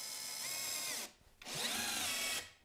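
A WORX Switchdriver 2.0 WX177.9 20V cordless drill-driver drives screws in two steady high whining runs of about a second each, close and loud, separated by a brief pause.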